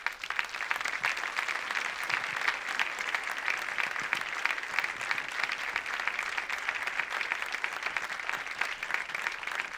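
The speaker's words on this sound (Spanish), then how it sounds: "Vamos a recibir con un caluroso aplauso a Nacha Sánchez." An audience at a film screening gives warm, sustained applause, a dense, even clatter of many hands clapping continuously from start to finish with no speech over it.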